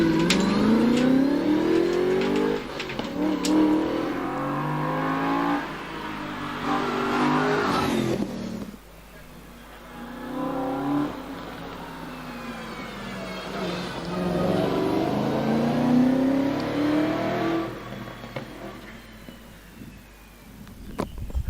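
Aston Martin Vantage GT4 with a 4.3 litre engine accelerating up the Prescott hillclimb, loud rising revs through repeated gear changes, passing close and then fading uphill.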